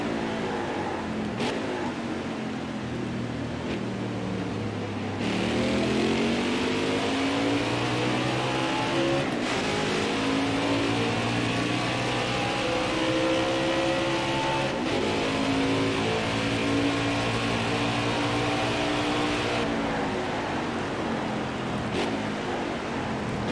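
A race car engine roars through repeated upshifts and revs in NASCAR Heat 5 during an Xfinity Series race at the Charlotte Roval, loud and close, with rising and falling engine pitch and no speech.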